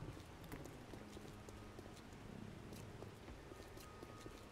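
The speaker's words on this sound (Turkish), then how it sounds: "Yağmurun altında vıcık vıcık zaten iş yapmaya çalışıyoruz burada." Steady rain falls in 7 Days to Die, a soft, continuous hiss with scattered droplet ticks, heard alone and at low volume throughout.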